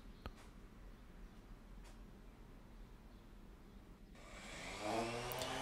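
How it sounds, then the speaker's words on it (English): A random orbital sander with foam pads polishes the clear coat on a seven-string guitar body, whirring on steadily for the last second and a half after a long stretch of quiet room tone. "using my random orbital sander and some foam pads"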